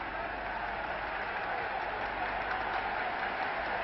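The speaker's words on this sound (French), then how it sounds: "Il est très applaudi." Basketball arena crowd applauding a player during the 1967 European Cup final between Real Madrid and Simmenthal Milano, a steady, even wash of clapping lasting throughout, muffled and somewhat distant.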